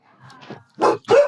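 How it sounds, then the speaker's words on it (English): A guard dog barks twice, loud and close, in two sharp bursts after a few softer whines and yips. "I didn't know Sabi was a guard dog."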